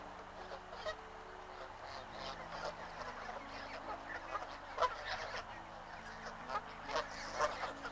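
Canada geese honk near water, a scattered chorus of raucous calls at moderate distance over a low background hum, with a few louder honks standing out.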